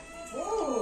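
A cat gives a single short, rising-and-falling meow, close and fairly clear, begging for fish.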